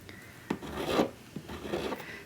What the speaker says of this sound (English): holding it against my bench pin to support it, and so I can apply even pressure and efficiently file away what I need